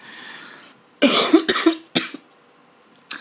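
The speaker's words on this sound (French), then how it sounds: "Excusez-moi, je vous ai coupé parce que j'étais occupée à tousser." A quiet hum fades out, then a burst of several harsh coughs close by, followed by a short pause and one more cough.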